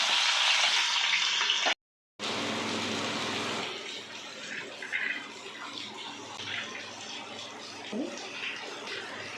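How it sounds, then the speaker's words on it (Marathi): Onions fry in hot oil for a palak paneer dum biryani, a loud hiss that briefly cuts out, then settles into a softer continuous sizzle with faint kitchen clatter. "आता कांदा आपण तळून घेऊया."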